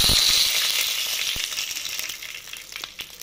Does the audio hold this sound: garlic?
yes